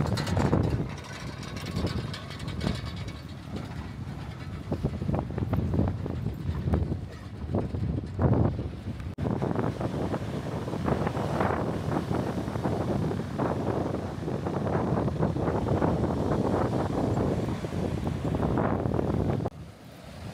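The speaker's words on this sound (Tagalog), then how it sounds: "Grabe alon na yan" Pacific surf near the Pacifica pier in California, breaking waves washing in repeatedly amid blustery wind gusting across the microphone; a voice speaks briefly.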